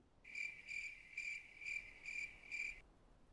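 A cricket chirps in six short, evenly spaced trills that are faint and isolated against quiet background hiss.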